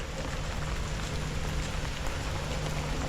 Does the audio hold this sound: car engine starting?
no